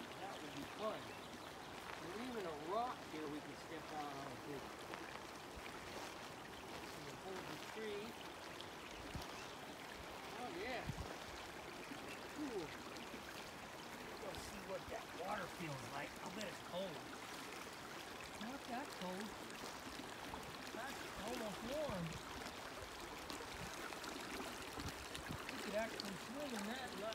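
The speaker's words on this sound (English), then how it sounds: "I wish we had a little river like this on our property." A small river stream flows over rocks outdoors, making a steady soft rushing and trickling wash that continues unbroken and fairly faint for the whole stretch.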